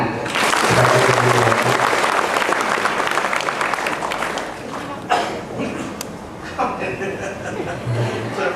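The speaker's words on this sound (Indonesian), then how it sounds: "Tepuk tangan." A crowd claps loudly in sustained applause that gradually thins out, with a few chuckles and voices mixed in near the end.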